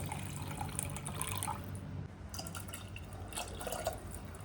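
Water from soaked dates is poured into a pan while making date payasa, a faint, quiet trickle and dribble of liquid lasting a few seconds with no talk.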